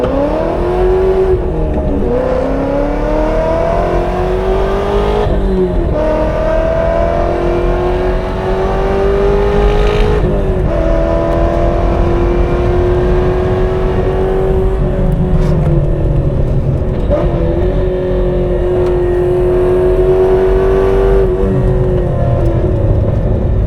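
Supercharged Corvette C6 Z06 running without traction control on the Nürburgring, its engine droning loud and continuous from inside as revs climb and shift repeatedly, with tire and wind roar underneath throughout.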